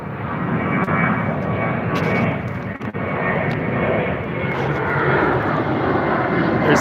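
A Janet airline jet aircraft near Area 51 flying overhead, a loud, steady broadband engine roar that fills the whole stretch without a break, with no voices.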